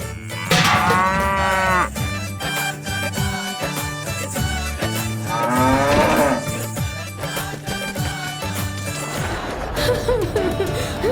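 A cow moos loudly and near on a farm, three long drawn-out calls spaced through the scene over layered background sound.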